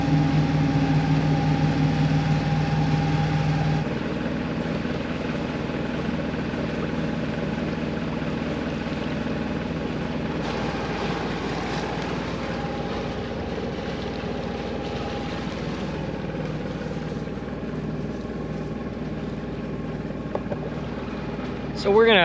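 A boat engine idles and hums steadily throughout in a Bora Bora lagoon, a low droning motor with faint background sounds and a small click near the end.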